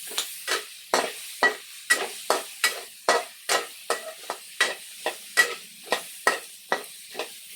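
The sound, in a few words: sautéing tomatoes in a pan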